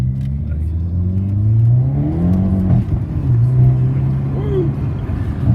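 A Toyan V8 engine in a Camaro revs up close, its pitch climbing and falling in two strong pulls with a rough, burbling tone, loud and continuous.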